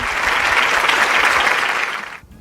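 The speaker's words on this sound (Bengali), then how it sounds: "রাহুলের জন্য একটা জোরে হাততালি।" A studio audience claps loudly and steadily for a student on a quiz show, a dense burst of applause lasting a couple of seconds before cutting off abruptly.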